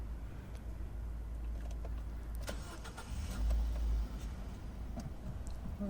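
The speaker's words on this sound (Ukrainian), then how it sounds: "Автомобіль заводиться дуже гарно і дуже легко, моторчик працює рівненько" A 2011 Nissan Qashqai 1.6 petrol engine with manual gearbox runs at a steady idle, a low continuous rumble with a brief swell in revs partway through, no voices.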